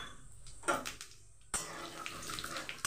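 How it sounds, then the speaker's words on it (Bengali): Cumin seeds hitting hot oil in a wok for tempering, a sudden sizzle bursting in and crackling steadily up close. "এবারে আমি দেব জিরে ফোড়ন।"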